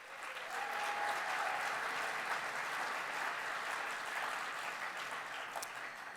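Steady round of audience applause for presenters at a waste industry conference Ignite session, a large crowd clapping continuously at moderate distance, fairly quiet, with no talking.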